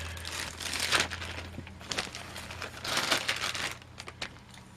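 Electrical cable sheathing is cut open while wiring an added basement light, with bursts of crinkling, scraping plastic at close range over a low hum and no talking.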